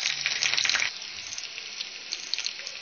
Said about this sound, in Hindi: हरी मिर्च जो है वो हमारी फ्राई हो रही है